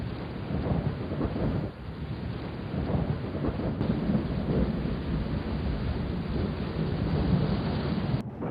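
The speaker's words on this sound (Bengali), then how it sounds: "আরে গৌরী বৃষ্টিতে এখানে কি করছো দাদা" Steady heavy rain pours down with deep rumbles of thunder rolling through in a Bangla-dubbed South Indian film, continuous and fairly loud, no voices present.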